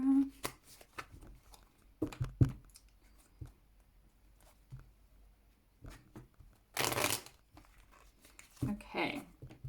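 Tarot cards are shuffled in bursts of crisp riffling and papery slaps, with one long loud flutter in the middle, amid scattered handling noises and quiet talking.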